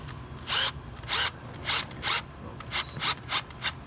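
Short bursts of a tap cutting threads into metal while servicing a 6.0 Powerstroke fuel injector, several on-off pulses with brief pauses between them, close by and without talk.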